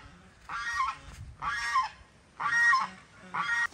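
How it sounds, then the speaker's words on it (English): Geese on an island honk four times in slow succession, each call a loud, nasal, close blast with short quiet gaps between, and no voices. "There's even geese on this island."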